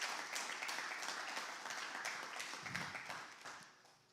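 Applause from a church congregation during a sermon, a soft, distant wash of clapping that holds steady and fades toward the end.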